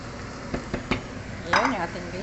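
Beans tipped into a metal cooking pot, a few clinks and knocks of utensils and cookware followed by a sizzling, splashing burst, with a person talking over it.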